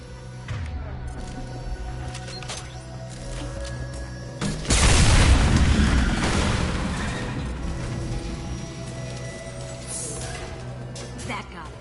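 A heavy explosion blows up tanks in the video game Mass Effect 2, a loud broadband boom bursting in midway and decaying slowly over a steady rumbling game soundscape, with voices talking.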